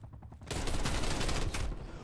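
Rapid gunfire bursts from the video game Black Ops Cold War, loud and dense, starting abruptly after a brief quieter moment and continuing as a sustained barrage.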